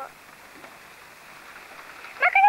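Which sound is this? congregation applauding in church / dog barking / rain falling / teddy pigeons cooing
rain falling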